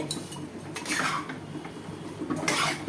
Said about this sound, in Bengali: আমি এটাকে নাড়িয়ে এবারে ঢেকে দিলাম।